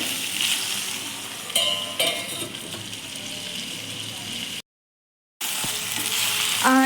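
Eggplant and tomato fry in oil over a low flame, a steady close sizzle with occasional stirring clinks and a voice talking over it; the sound cuts out briefly, then resumes.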